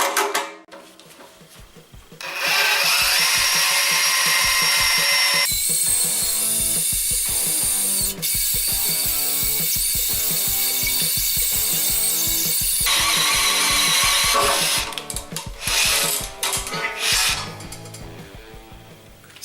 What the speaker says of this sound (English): the hole I'll be drilling is going to be a 13/16 hole with a carbide tip hole cutter